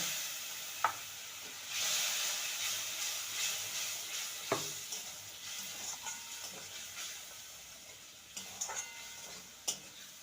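Spice paste sizzling in a pan as a little spice-rinsing water is added, with sugar, for an egg and gram flour dish; a soft steady hiss runs throughout with occasional sharper ticks and clinks of stirring, no talking.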